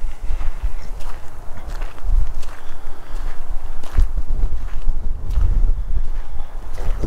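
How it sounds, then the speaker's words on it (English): Steady wind rumbling and buffeting close by, with scattered thumps and crunching steps breaking through the low roar. "It's windy and cold"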